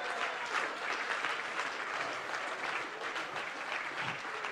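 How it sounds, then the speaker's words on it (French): A church congregation claps loudly and steadily during a lively worship service, dense continuous applause filling the room for several seconds with no clear talk. "Applaudissez bon Dieu beaucoup plus fort matin."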